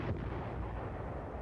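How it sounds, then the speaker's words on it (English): Korean War artillery fire, a dense deep boom with rumbling aftershock filling the short stretch, loud and heavy with no talk. "they get protective fire from 7th Division artillery"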